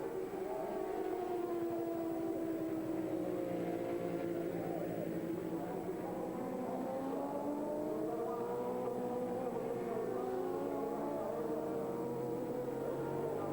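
A racing motorcycle at the 1997 Bol d'Or endurance race holds a loud, sustained engine howl, its pitch rising and falling through gear changes as it runs continuously and fairly close.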